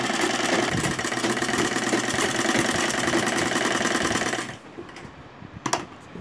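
Close, fast mechanical rattle of a sewing machine running a seam on a baby frock, steady for about four seconds before stopping abruptly, leaving a faint room hush and a brief clack.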